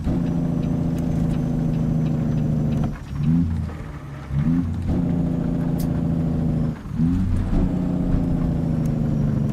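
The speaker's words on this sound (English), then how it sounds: "Down the gearbox we go." A truck engine in a truck driving video game drones steadily and loudly, then drops as gears are changed twice, with the revs falling and climbing back each time, and no one talking.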